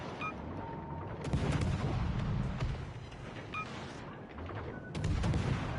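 Ship guns firing in the World of Warships Legends naval video game: repeated heavy booming salvos rolling over one another with rumbling low-end, loud and continuous across the clip.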